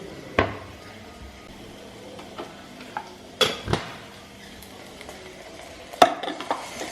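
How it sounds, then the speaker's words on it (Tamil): Potato fry cooking in mustard oil with salt and turmeric, a faint low sizzle under several separate clanks and knocks of utensils against the pan, with no voices. "உப்பு, மஞ்சள் தூள் போட்டு உருளைக்கிழங்கு பாஜா ஃப்ரை ரெடி ஆகிட்டுருக்கு."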